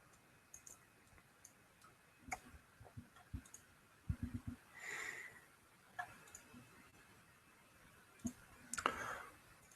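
Keys clicking on a computer keyboard while code expressions are entered at a Clojure REPL, a quiet, irregular run of light taps and clicks with short pauses, alone without talk.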